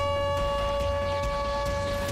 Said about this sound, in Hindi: पूरे शहर में सायरन के शोर से लोग सहमे हुए हैं।